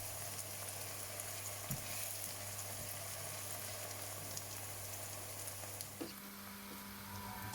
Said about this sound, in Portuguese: Convém ir mexendo a pouco e pouco para não deixar agarrar ao fundo do tacho, mesmo que este seja antiaderente.